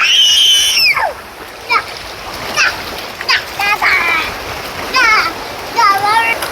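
Children's voices chatter and squeal over repeated water splashing in a shallow stream, close by and lively.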